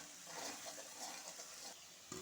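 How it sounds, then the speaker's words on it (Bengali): Potato pieces seasoned with turmeric and salt fry in hot oil, giving a soft, continuous sizzle at low volume with a brief clink near the end. "এবার আলুটাকে ভাজা হচ্ছে"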